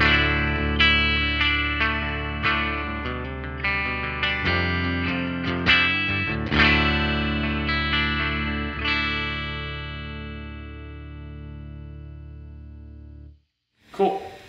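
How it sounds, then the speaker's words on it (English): A Les Paul electric guitar plugged straight into a Vibrolux Reverb tube amp with no pedals, played clean, picked notes and chords ringing out, then one long chord sustaining and fading before a brief final strum. "Les Paul plugs straight into a Vibrolux reverb, no pedals in between"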